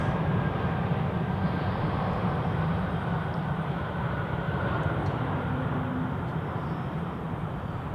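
An Airbus A320 airliner at Zurich Airport gives a steady, loud engine roar that holds evenly for the whole stretch with no talk over it.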